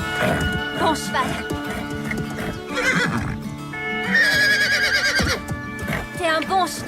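A horse whinnies loudly and repeatedly over a busy background of music and voices, with a long high neigh in the middle.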